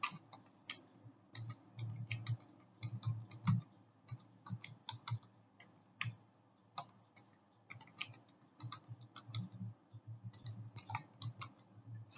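Keys clatter on a computer keyboard as a password is typed, giving quiet, irregular clicks and taps in short bursts with brief pauses, close and soft.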